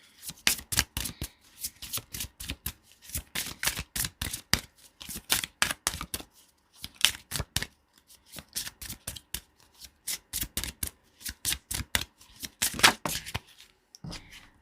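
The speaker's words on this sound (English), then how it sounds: "I'm going to pull karma cards just to kind of see what's coming up" Karma cards for a tarot reading being shuffled by hand in rapid rhythmic riffles, each burst of crisp flapping card edges followed by a short pause, close and clear with no speech.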